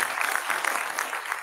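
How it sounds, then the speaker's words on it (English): An audience claps together at a talk about a school, giving a dense, steady wash of applause that holds at an even level for the whole moment, with no speech over it. "Let's give God a hand clap"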